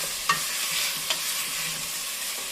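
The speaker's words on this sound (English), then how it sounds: "We're going to grab a spoon, and we're going to start stirring this up like so" A spoon stirs chopped bacon rendering in a soup pot, a steady close sizzle with a couple of sharp scrapes of metal against the pot.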